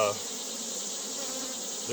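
Young honey bees buzzing around an opened hive during mite checks, a dense, steady drone close by that keeps going without a break.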